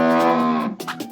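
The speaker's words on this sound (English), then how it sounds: "Which animal could that be? It's a cow." A cow moos once in a long, loud, sustained call that falls away near the end, alone and close up on a farm.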